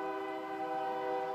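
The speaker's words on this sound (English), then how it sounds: "Hi, Choo Choo Train. Where are you going?" A toy choo-choo train sounds its horn in one sustained, chord-like honk, close and steady throughout, with no talking.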